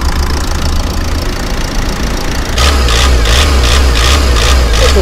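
Diesel engine of a 2011 Ford Tourneo Connect heard up close, first idling with a steady knocking rumble, then revved midway so the roar rises and pulses in rhythmic surges for the remaining seconds.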